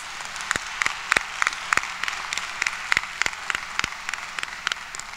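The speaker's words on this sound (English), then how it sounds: "Please join me in giving our platform speakers another round of applause." Applause at a university commencement ceremony: many hands clapping in a large space, with distinct individual claps standing out over a steady, moderately quiet crowd patter that continues throughout.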